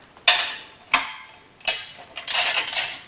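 Ratchet wrench loosening the skid plate bolts on an Ibex 450 motorcycle: three sharp, separate clicks spaced under a second apart, then a denser burst of rapid ratcheting, close and fairly loud with no talking.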